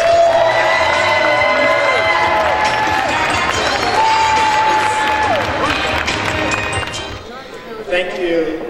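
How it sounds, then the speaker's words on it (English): A live audience at a gospel event at the Georgia Legislature applauds and cheers loudly for a singer, a sustained roar of clapping, whoops and crowd noise, with a voice speaking over it before it dies down near the end. "let's give a great round of applause to my favorite"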